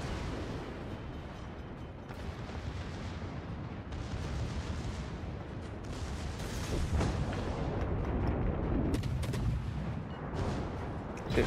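Naval guns firing in World of Warships, a string of heavy booms and blasts over a rumbling background, loudest and densest in the second half.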